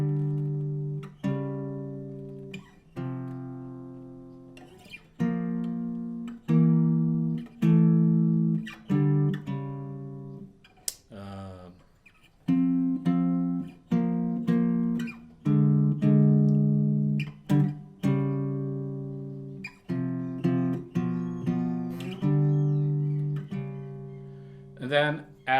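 Jazz guitar plays guide-tone chord shapes, thirds and sevenths, on the fifth and fourth strings in a chord melody: clean sustained two-note dyads changing steadily, close and clear with no talk over them.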